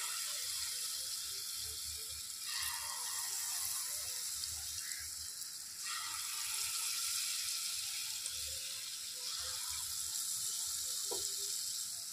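Mango pakoras frying in hot oil, a faint continuous sizzle with intermittent bubbling bursts and occasional light clicks over twelve seconds, no voices.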